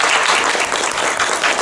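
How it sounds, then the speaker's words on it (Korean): Steady, dense applause from an audience at a Korean-Chinese student network's 20th anniversary New Year seminar, continuous and loud throughout. "이 두 분들한테도 너무 박수 부탁드립니다."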